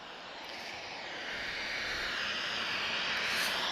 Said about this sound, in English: So Bruno, I dedicate that takeoff to you.